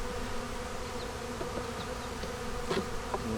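Honeybees buzz around a hive frame being lifted out, with a steady, soft drone close by and a few individual bees whining past.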